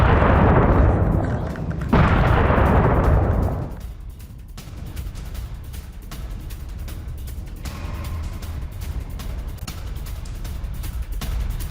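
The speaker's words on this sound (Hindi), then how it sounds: "सेना के ठिकानों पर भीषण धमाके किए गए हैं" Heavy booming explosions from strikes on military bases in Tehran roar loudly in two long bursts over the first four seconds, followed by a lower, ongoing rumble with scattered distant thuds.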